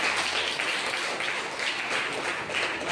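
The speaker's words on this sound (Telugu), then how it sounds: "దీనికి బిగ్ క్లాప్స్ ఇస్తున్నాం" Audience applause at a children's dance school event, a dense steady wash of many hands clapping for a few seconds with no talk.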